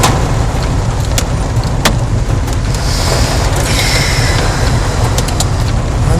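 A freak hailstorm pounds a car seen from inside, a loud dense roar of countless hailstones with sharp individual cracks against the body and glass, unbroken for several seconds with no talk.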